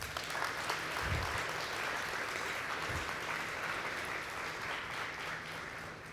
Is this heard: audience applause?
yes